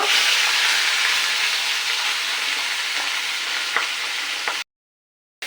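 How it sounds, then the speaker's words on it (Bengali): Pieces of catla fish fry in hot oil with a loud, dense, continuous sizzle and hiss, close by and unbroken apart from a few faint clicks, before a sudden silence. "তার জন্য মাছটাকে ভেজে নেব।"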